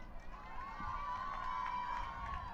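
A crowd at a women's college soccer match cheers and murmurs in the distance, with a rising shout and scattered voices over faint background hum.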